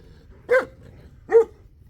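Two short, sharp dog barks spaced under a second apart, fairly close, with quiet between them.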